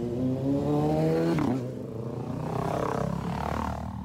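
Big bike motorcycles pass on a scenic road in the Philippines, engines droning loudly and close, their pitch sliding down as one goes by, then another engine note rising behind it.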